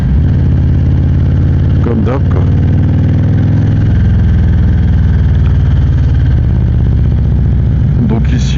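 A motorcycle engine runs loud, close and steady on a ride over the Col de l'Épine mountain pass, with a constant low drone throughout and someone speaking briefly over it.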